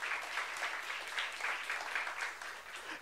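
A church youth-service congregation applauds steadily for several seconds, dense overlapping hand claps at an even volume, filling the room with no voices standing out.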